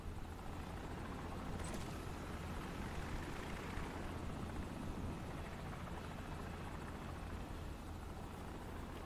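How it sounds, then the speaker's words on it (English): A helicopter in the video game Call of Duty 4: Modern Warfare drones steadily with a thick rotor chop, sustained and moderately distant, with no voices. "Enemy helicopter, get down."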